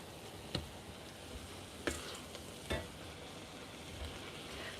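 Ground beef frying for bolognese in a pan, a faint steady sizzle broken by a few sharp scraping stirs, quiet and close.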